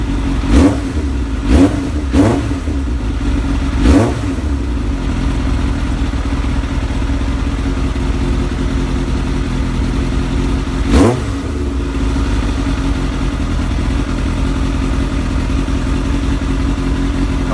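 Kawasaki ZX7R motorcycle engine idling steadily close by, indoors, with a few sharp throttle blips early on and one more later, each revving up and dropping back to a steady idle.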